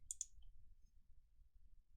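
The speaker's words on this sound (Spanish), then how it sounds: "Y luego clic al botón Aceptar." Two quick, crisp computer mouse clicks come close together, clicking an OK button. They are soft and near, then fade into a quiet room hum.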